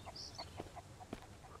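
A chicken clucks faintly in the survival horror game Mist Survival, with short repeated clucks spread across a steady, low-level background ambience.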